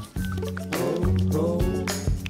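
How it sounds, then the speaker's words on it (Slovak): Melted white chocolate with a little oil, taken off a water bath and stirred until smooth, giving soft wet squishing and scraping sounds in uneven strokes, close and moderately loud. "Roztopenú čokoládu stiahneme z ohňa a rozmiešame do hladka."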